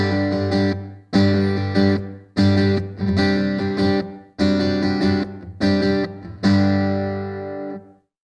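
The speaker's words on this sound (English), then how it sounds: "you'll hear a different, like a different style of room reverb" Distorted electric guitar chords strike in short bursts with pauses, each ringing out into a roomy reverb tail, the last chord left to fade.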